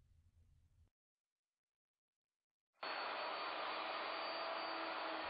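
A plunge router cuts a mortise with a Leigh frame mortise and tenoning jig, starting abruptly after a short silence as a loud, steady high-pitched whine that holds continuously to the end, with no voices.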